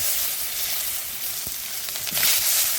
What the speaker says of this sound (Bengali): এই যে তেল গরম হয়ে গেছে, আলুগুলো ভাজবো না, আলুগুলো আগে দিয়ে দিই